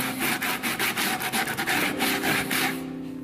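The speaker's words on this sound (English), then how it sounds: "I'm going to take my saw, put it in that groove and cut a 45 degree from both sides" A hand saw rasps back and forth in quick, even strokes, cutting a V groove into a wooden pulley, close and clear, with no talking, before the strokes stop.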